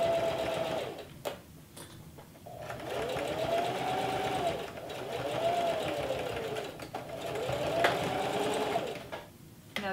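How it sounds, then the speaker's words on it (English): A sewing machine backstitches a cloth face mask, its motor whirring steadily and close, with pitch rising and falling in repeated passes over about ten seconds. "you are going to backstitch. And that's just to lock that in."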